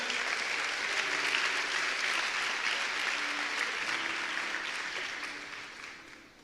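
Church congregation applauding, a broad steady wash of many hands clapping at moderate distance that holds evenly before fading out at the end.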